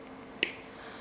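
One sharp snip as the ends of speaker wires are cut, a single brief crisp click standing out over quiet room noise.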